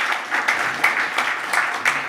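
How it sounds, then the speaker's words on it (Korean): Audience applauding the panelists at the close of a river forum panel discussion in Ulsan, with a steady wash of many hands clapping at moderate level and no talk over it. "긴 시간 발표해주시고 토론해주신 이 앞에 나와 있는 선생님들께 큰 박수"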